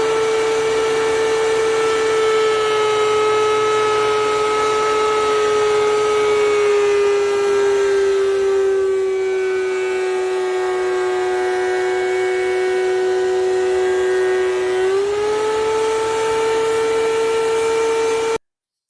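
A DeWalt 735 thickness planer runs with a loud, steady high-pitched whine that holds throughout, dipping slightly mid-run and then rising again, with no dust collection attached so chips blow out freely.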